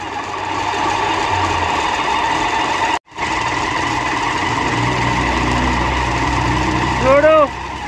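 Truck clutch making noise while the pedal is pressed, a steady engine drone with metallic whirring running throughout, a brief dropout midway, and a short rising whine near the end.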